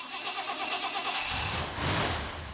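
A car engine cranks and catches after a jump start from a NOCO GB70 booster pack, with a steady starter whir turning into a rough, rumbling idle, close and loud.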